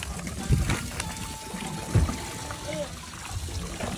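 Menhaden chum is poured from a boat into the sea while anchored for yellowtail snapper fishing, a wet splashing trickle with a couple of heavier thumps, close by, over a steady low engine and water background.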